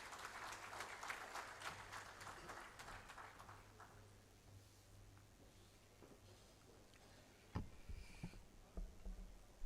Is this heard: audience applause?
yes